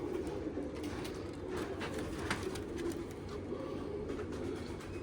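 Jamuni pigeons coo steadily together in a dense low rumble of overlapping calls, close and even in loudness throughout, with faint rustles and no talking.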